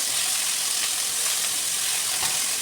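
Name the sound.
tomatoes sautéing in a pan for kuzhambu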